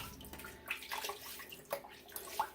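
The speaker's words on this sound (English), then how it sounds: "we're going to go ahead and throw some water on my head here." Water splashing and pouring over a man's head before a shave, heard as a few soft, close splashes and trickles in a quiet room.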